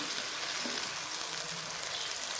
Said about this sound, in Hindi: हम पालक को भून के डालेंगे इसमें